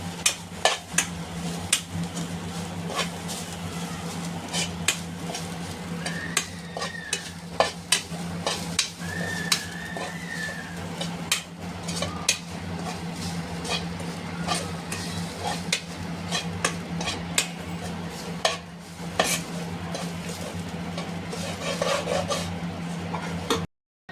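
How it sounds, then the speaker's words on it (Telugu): Grated coconut frying in ghee while being stirred, a steady soft sizzle with frequent scraping clicks of a spoon against the pan throughout, close and moderately loud, no voices. "ఈ కొబ్బరి తురుముని నెయ్యిలో వేసి పచ్చివాసన పోయేంత వరకు లైట్గా"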